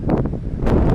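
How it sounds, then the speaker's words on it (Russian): Strong wind buffets the microphone outdoors during fishing near Astrakhan, a steady low roar with gusty rumbling bursts throughout the short moment. "видите, как у нас ветер плохо дает"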